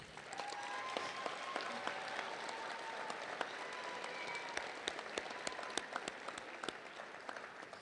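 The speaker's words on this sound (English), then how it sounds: "why don't you give them a round of applause too?" Graduation audience at Polaris High School applauding the faculty and staff, a faint, distant, steady patter of many hands clapping that runs throughout.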